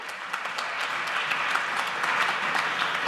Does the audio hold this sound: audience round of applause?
yes